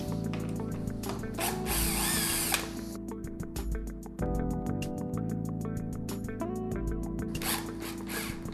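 Power drill driving 3.5 x 50 mm screws into the leg of a door frame being installed in a block wall, with steady bursts of close, loud whirring and ratcheting that stop and restart with short pauses.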